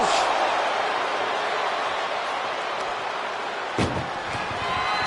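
A steel cage door slams shut with a single sharp metallic bang in a WWE wrestling video game, set against a steady wash of arena crowd noise.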